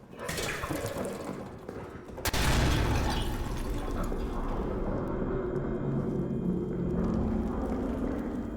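A grenade blast in the video game Amnesia: The Bunker booms suddenly and heavily partway through, leaving a rumbling, dripping echo in the dark surroundings.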